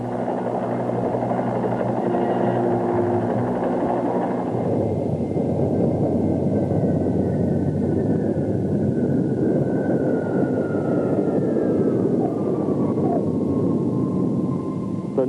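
A steady, loud rotor and engine roar of a helicopter flying, continuous throughout with a faint whine drifting across it, no voices.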